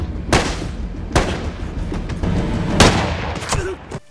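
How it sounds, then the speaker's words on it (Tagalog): Gunshots ring out in a cartel action film, three or four sharp, loud blasts spaced unevenly over a rumbling background. "Gumawa ng diversion si Miguel para payagan si Jim na barilin ang huling miyembro bago sila sundan ni Mauricio."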